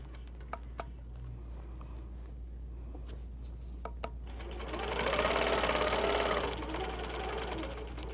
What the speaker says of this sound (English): I'm going to continue on, keeping my hand close to where the hopping foot is sewing.